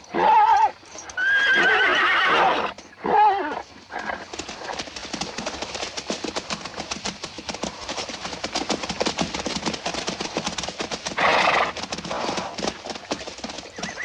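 Horses in an old Western film scene give loud whinnies near the start and again around the middle. Between the calls, a dense run of hooves clip-clops steadily over the rest of the clip.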